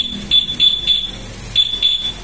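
Repeated high electronic beeps from a motorcycle alarm remote being set to silent mode, short tones in an uneven run, close and fairly loud with no talking.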